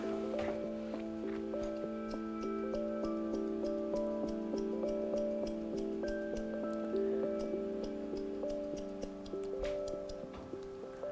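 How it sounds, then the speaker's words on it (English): Scissors snip repeatedly through hair during a layered cut, a run of small crisp clicks and cuts scattered over a steady tonal musical background. "I'm just going to hold the scissors on my finger and I'm going to go like this several times"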